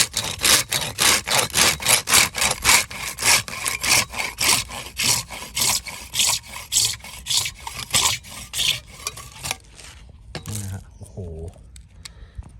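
A Gyokucho razor pull saw cutting through PVC pipe, with rapid, regular rasping strokes, close and loud, for about ten seconds before the cut finishes. A few faint knocks and a short bit of speech follow.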